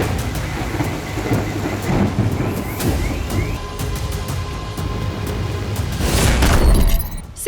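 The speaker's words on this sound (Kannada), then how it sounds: "ಸಿಲಿಕಾನ್ ಸಿಟಿಯಲ್ಲಿ ಅಬ್ಬರಿಸಿದ ಮಳೆರಾಯ." Heavy rain pours down over Bengaluru with a dense, continuous roar, and a low rumble of thunder swells louder toward the end.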